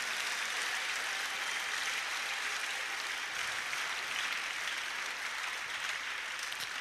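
Church congregation clapping after a shared testimony, a dense, continuous wash of many hands heard from a little distance, steady throughout with no speech on top.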